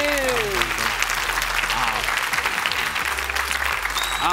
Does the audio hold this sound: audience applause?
yes